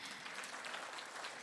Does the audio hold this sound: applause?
yes